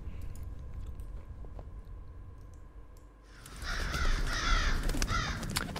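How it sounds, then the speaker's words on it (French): A pigeon coos in the adventure game The Last Door, with repeated throaty calls rising over a low background hum after a quieter stretch, and no voices. "Bruit de pigeon."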